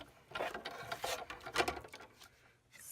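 Hand-cranked embossing machine rolling a card through, soft uneven clicking and rubbing mechanism sounds, quiet and close, no talk.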